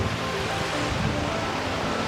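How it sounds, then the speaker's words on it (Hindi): Steady broadband ocean surf rushing continuously at Karwar, India, mixed with wind noise on the microphone, with no clear speech. "ये देखो लहरें।"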